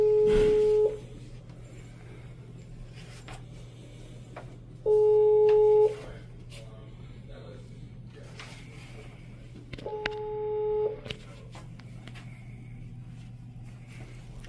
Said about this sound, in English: Looks like a fancy doorbell.